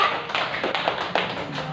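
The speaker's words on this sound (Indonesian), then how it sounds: "Kita beri tepuk tangan untuk kelompok 3." Scattered clapping from a class of students for a presenting group in an Islamic ethics lesson. A handful of distinct hand claps and taps sounds close and uneven rather than a full ovation.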